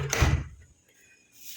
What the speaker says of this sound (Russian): Вот это задняя дверь.